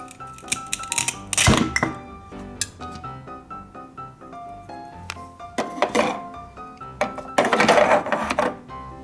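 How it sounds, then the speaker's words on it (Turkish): Washed fruits and vegetables are cut in a cartoon kitchen, with irregular knife thunks and clinking dish sounds in bursts over light music, no talk. "Şimdi kesip dolaba koyma zamanı."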